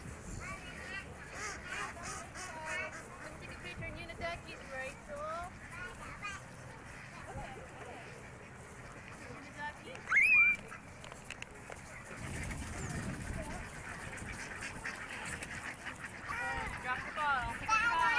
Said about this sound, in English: Say hi to the ducks.